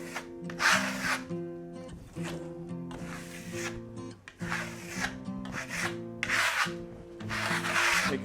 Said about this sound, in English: we apply it the same way as we did the Venetian plaster, fairly small amounts